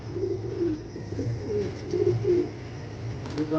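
Pet pigeons, a breeding pair kept with chicks and eggs, coo in soft, low, repeated rolling phrases close by, steady across the whole stretch with no speech.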